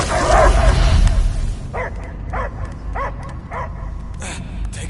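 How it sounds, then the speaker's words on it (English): A dog barks in the video game Marvel's Guardians of the Galaxy, several times in a steady rhythm after a burst of noisy sound, the barks clear and mid-distance against a low rumble. "I hear only barking."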